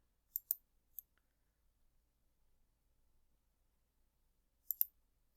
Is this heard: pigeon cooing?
no